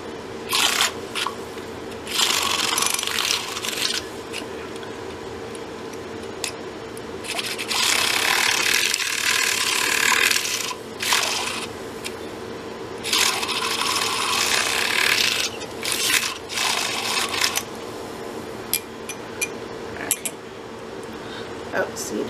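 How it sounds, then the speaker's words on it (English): A handheld froth mixer whirs through a black-dyed bath bomb mixture in bursts, starting and stopping several times, with clinks and rubbing of the container between runs and no talk over it. "I'm gonna use my froth mixer to mix in the rest of this."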